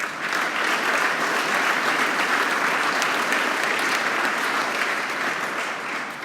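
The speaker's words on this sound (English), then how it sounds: "I think he deserves a round of applause" Sustained applause from a banquet audience at a Hall of Fame dinner, a dense, even wash of many hands clapping steadily for about six seconds without pause.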